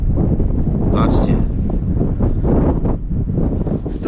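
Strong wind blowing outdoors in an open field, roaring and buffeting hard against the microphone in loud continuous gusts while a person speaks.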